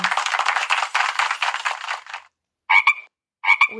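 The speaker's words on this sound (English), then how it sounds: "This is a green frog." Two short, loud croaks of a green frog, evenly spaced and up close, come after a stretch of talking.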